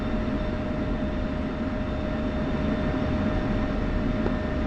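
Military jet taxiing toward the runway rearm and refuel pads during a night training session in a flight simulator game; a steady, even engine whine and low rumble hold throughout, with no talk.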